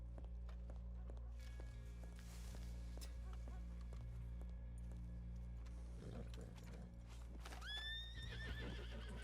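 In an old-west role-play game, a horse whinnies with a rising-and-falling call near the end, while steady hoof clip-clops run underneath and a faint voice talks over a low, constant background hum.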